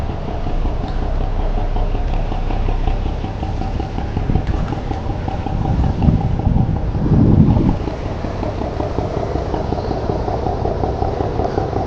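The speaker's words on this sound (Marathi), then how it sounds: "सो आमची आता बोट स्टार्ट झाली आहे" Houseboat engine running steadily on a Kerala backwater cruise, a continuous low drone mixed with wind buffeting the microphone, loud and close with no voices.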